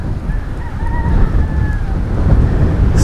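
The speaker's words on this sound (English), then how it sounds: "Super windy." Strong wind buffets the microphone on a beach at Cabo Pulmo in Baja California, Mexico, a loud, continuous low roar with faint bird-like calls drifting through it and no speech.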